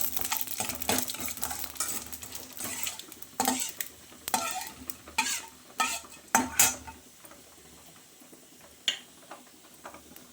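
Poppy seeds and fennel stirred in a pan for a restaurant-style chicken dry: faint, irregular spoon clinks and scrapes against the metal, fading into quiet near the end.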